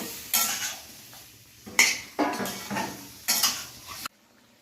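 Marinated Patiala chicken is stir-fried in a pan, with four distinct bursts of a utensil scraping and clattering against the metal over a soft sizzle, then a sudden stop.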